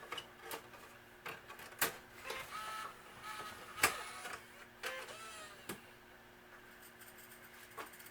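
CD/DVD player mechanism loading a disc, a quiet series of clicks, ticks and whirring motor sounds at irregular intervals, close and alone.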